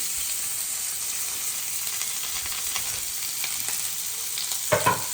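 Chopped onions sizzle and fry steadily in hot oil for egg bhurji, a constant close hiss with a few brief stirring scrapes and a louder clatter near the end.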